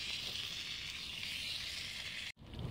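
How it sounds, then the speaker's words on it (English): Steady, close sizzling of food frying in a hot pan, a dense hiss that briefly cuts out before resuming. "A couple more sizzling away in the background"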